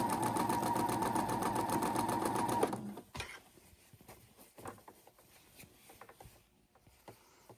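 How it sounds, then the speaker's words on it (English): A sewing machine stitches quilt fabric borders for a highland cow quilt, running in a fast, steady mechanical whir that stops after about three seconds, followed by quieter fabric handling and clicks. "put them together, sew them together next"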